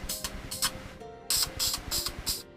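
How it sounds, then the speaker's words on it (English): Aerosol can spraying silver paint for a cosplay prop of Cloud Strife's Buster Sword, in several short hissing bursts of about half a second each, close and fairly loud, with no talking. "So spray it in."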